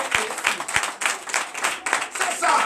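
Congregation clapping and calling out at a Sunday church service in Comè, Benin, a dense, steady spatter of hands with voices mixed in throughout.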